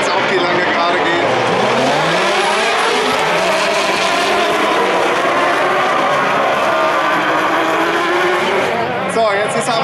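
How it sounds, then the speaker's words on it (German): Super buggy race cars at a Seelow race roar loudly and continuously through curves, their engine whine rising and falling as they pass, with a commentator talking over the noise. "So, Willi Albers bremst in den Kurven immer ein bisschen ein, damit er dann hier, wenn es auf die lange Gerade geht."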